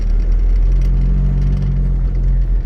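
A car pulling along in second gear during an uphill driving lesson, its engine a steady mid-pitched drone with a low hum running continuously and close throughout, with no talking.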